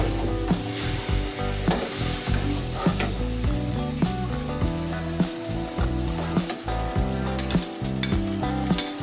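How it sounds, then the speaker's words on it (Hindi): Maida flour cooking in a hot pan for a chicken bread filling, with a steady sizzle and repeated spoon scraping and tapping against the pan throughout. "अब हम इसमें मैदा डाल देते हैं। इसे तकरीबन 2 मिनट तक पकाएंगे।"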